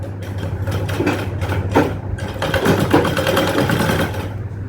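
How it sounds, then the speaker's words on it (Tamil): A sewing machine begins stitching a chudithar with a back-tack, giving close, loud bursts of fast needle chatter over a constant motor hum, with short pauses between runs. "இந்த இடத்துல நான் ஸ்டார்ட் பண்ணுறேன் தைக்க. கட்டு தையல் போட்டு ஆரம்பிக்கிறேன்."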